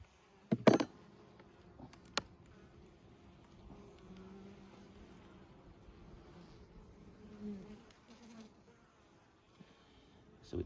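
Honey bees at a hive being fed sugar syrup, a faint, low, continuous buzz with a few brief louder knocks and handling noises near the start.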